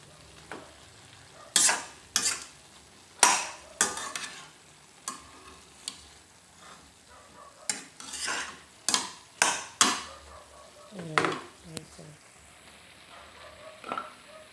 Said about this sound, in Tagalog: Akin nga haluin pa ano para yung nasa ibabaw maluto siya